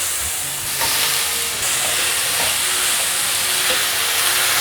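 Eggplant stir-fried with bamboo shoots in a hot pan after a splash of water, a loud continuous steamy hiss and sizzle with occasional tossing clatters, no talking.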